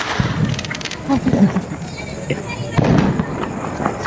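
Firecrackers crackle and pop in rapid bursts during Diwali, loud and close, with people talking over the noise.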